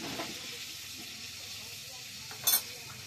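White cumin seeds crackling and sizzling in hot mustard oil in a pan, a steady faint hiss with a sharper burst of spitting near the end.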